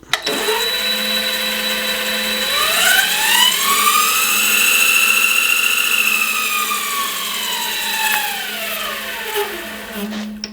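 A partially reassembled mini lathe spins up and runs loudly nearby, its motor whine rising in pitch, holding steady, then falling as it winds down, with a persistent high mechanical drone.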